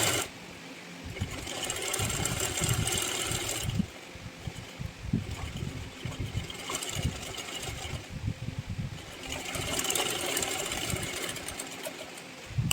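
Sewing machine stitching kurti neck fabric, a steady motorized whir that runs in long bursts with brief pauses between them, close and moderately loud, with no talking.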